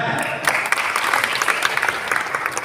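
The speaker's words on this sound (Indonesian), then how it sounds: "Tepuk tangan." Brief burst of audience applause at a Betawi organization inauguration ceremony, many hands clapping briskly and fairly close for a couple of seconds.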